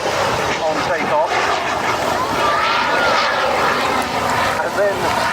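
A one-off S2S special aerobatic aircraft takes off and climbs at the Duxford summer air show, its steady, loud engine drone filling the air under an announcer's continuous talk.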